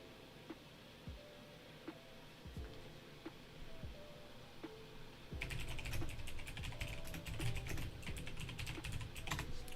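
Quiet, sparse keystrokes on a computer keyboard give way to rapid, continuous typing that grows louder and denser midway through, heard up close with no talk.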